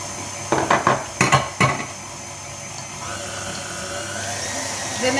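A whisk clinks and scrapes against a pan of homemade pastry cream in a quick cluster of metallic taps near the start, then fades to a quiet background.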